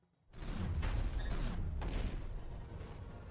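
Explosion effects from the video game Silent Hill: Shattered Memories, a heavy, distorted bass boom that starts abruptly after a brief silence and then holds as a dense, clipped roar for about three seconds.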